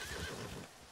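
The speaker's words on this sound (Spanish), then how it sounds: "Uy, el caballo se asustaba" A spooked horse neighing in the video game Red Dead Redemption 2, a brief, faint whinny within low background noise.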